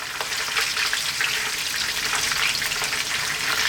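Cooking oil left in a pan after frying chicken for Jamaican brown stew chicken, sizzling and crackling steadily as it reduces, a constant close hiss with no voices.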